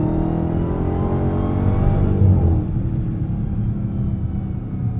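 A Dodge Challenger Hellcat Black Ghost with an 807 hp Hemi V8 revs up through a rising, throaty rumble with a whining edge, then settles into a steady lower drone, heard from inside the car.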